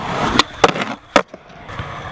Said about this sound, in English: when you do Smith grinds, the kingpin is really going to grind down into the concrete or the surface of whatever you're skating